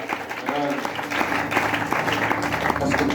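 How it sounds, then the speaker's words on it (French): A church congregation cheers and claps in steady, continuous applause. The sound is fairly loud and sustained, with voices calling out over it. "nous allons acclamer le Seigneur"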